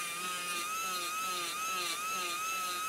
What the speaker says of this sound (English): Zest recommends using these on low speed in a continuous and smooth motion, just providing some final polishing procedures for the cameo surface of the complete denture.